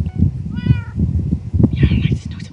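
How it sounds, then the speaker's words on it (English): A Minecraft cat meows in a short high tone that holds steady, with more meows further on, while people chatter and laugh loudly over it during a game of hide and seek. "Meow like there's no tomorrow"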